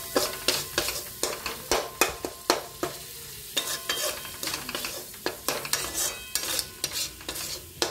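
Salt, turmeric and cumin powder fry in a pan while a utensil stirs and scrapes in quick, repeated strokes over a steady sizzle, close and fairly loud with no voices.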